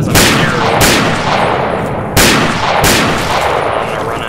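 Four loud, sharp gunshots in Fallout 3 arrive as two quick pairs, each blast trailing off into a brief rumbling tail.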